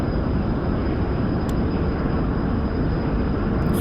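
A Hawker Hunter jet in DCS builds speed on its takeoff run, a steady loud engine roar with a constant high whine on top and a brief click partway through.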